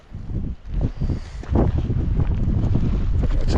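Steady wind buffeting the microphone beside a Cat 416 backhoe, a low rumbling roar that gusts and swells, growing stronger and constant in the second half.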